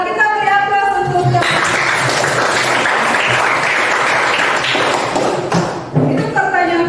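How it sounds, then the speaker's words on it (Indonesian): Classroom applause breaks out, a dense burst of many hands clapping for several seconds, loud and close, framed by a teacher's speaking before and after. "Kita beri aplaus untuk"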